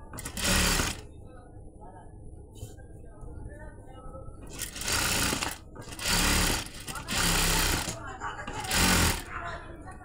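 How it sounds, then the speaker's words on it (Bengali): Sewing machine running in short bursts while stitching lace onto a garment sleeve, several loud whirring runs of about a second each separated by quieter pauses, with a low background hum. "এই যে সুন্দর করে একদম সাইড থেকে চাপ সেলাইটা দিবেন।"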